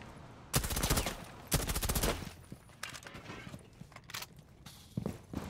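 Gunfire in the video game Rainbow Six: two loud rapid bursts of automatic fire close together, then quieter scattered shots and shuffling footsteps.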